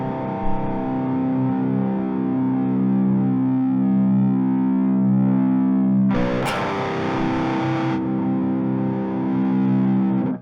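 Distorted electric guitar played through an amp simulator with the high end turned fully off, giving sustained dark, dull chords, then a brief burst of brighter buzzy tone partway through.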